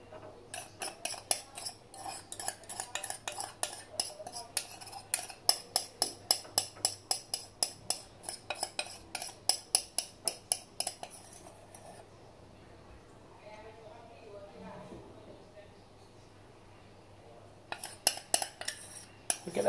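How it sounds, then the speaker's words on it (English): A metal spoon repeatedly clinks and scrapes against a cup or bowl while scooping a whipped dalgona coffee mixture. The taps are rapid, close and sharp in an irregular rhythm, with a quiet pause before a final burst. "Now to scoop the mixture."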